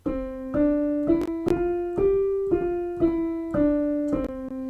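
A voice sings nine steady notes of a five-tone scale, climbing up and back down, each held briefly with a clear pitched tone and nothing else underneath.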